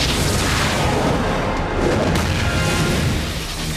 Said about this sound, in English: while I call down some artillery